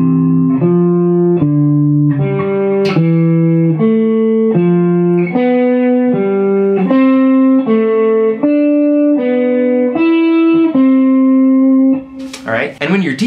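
A melodic instrument plays a scale in inverted thirds, paired notes stepping steadily upward in an even rhythm, clear and close with a slightly processed tone, ending in a brief burst of noise.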